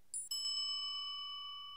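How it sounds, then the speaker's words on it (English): A bicycle-style bell rings once as a sound effect for a documentary edit: a bright, clear ding with a short strike that rings out and slowly fades. "then search for bell ding"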